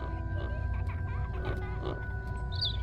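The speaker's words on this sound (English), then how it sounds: "It's probably a hog." A few brief snorting grunts from a hog in the SCP Secret Files video game, spaced unevenly over a constant low background drone, fairly quiet.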